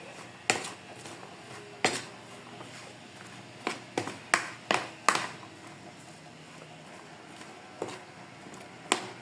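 Mango pickle with chili powder being mixed in a bowl brings intermittent metal spoon clinks and scrapes against the dish, separated by quiet, moist stirring.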